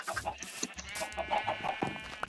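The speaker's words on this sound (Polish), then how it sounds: "Co tu robią małe kurczaki?" Small Minecraft chicks cluck and peep in short bursts through the game's soft ambient bed, with no voices.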